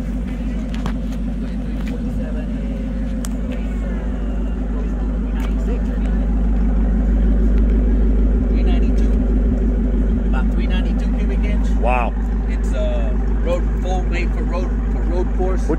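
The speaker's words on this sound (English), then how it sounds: "550 horsepower, naturally aspirated, flat plain crank V8." A 550 hp Shelby Mustang with a naturally aspirated 5.4-liter flat-plane crank V8 rumbles steadily from inside the car, its low drone constant beneath people talking over it.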